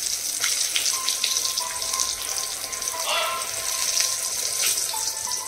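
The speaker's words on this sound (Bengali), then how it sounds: "চলো তো দেখো বেগুনগুলো ভেজে নিচ্ছি" Long eggplant slices frying in a pan give a steady close sizzle with a few sharper crackles, while a television plays faintly in the background.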